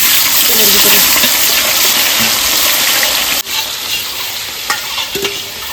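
Onions hit hot oil and sizzle steadily for several seconds in a home kitchen, a loud broad hiss that thins briefly near the middle, with a few light utensil clicks over it.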